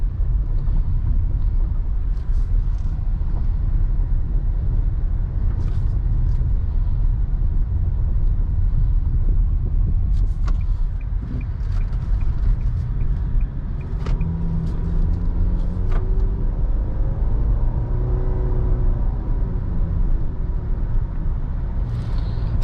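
A 2020 Nissan Sentra drives on the road, a steady low rumble of engine and tire noise with road hum filling the cabin, rising slightly as it moves, with no talking.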